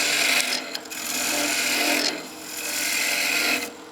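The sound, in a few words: skew chisel taking planing cuts on wood lathe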